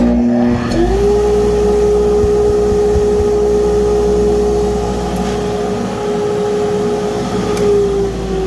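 A loud, steady motor drone of a Harvey dust collector running continuously, with a rising whine at startup that then holds level; no talking.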